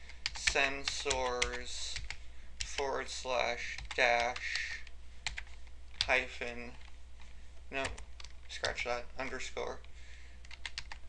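Typing on a computer keyboard while entering a command for a Minecraft Tekkit reactor dashboard, quick key clicks in short bursts running under steady close speech.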